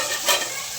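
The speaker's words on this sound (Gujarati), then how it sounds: "દાળ વઘારી છે" Tempered dal sizzles in hot oil in a home kitchen, a short burst of bright crackling hiss that swells briefly and then settles back to a steady frying noise.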